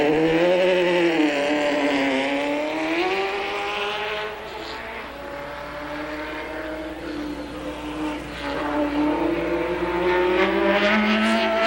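An ASA stock race car roars away from a pit stop during a pit-crew challenge, its engine loud and close, pitch rising and falling through the gears as it pulls away down pit lane.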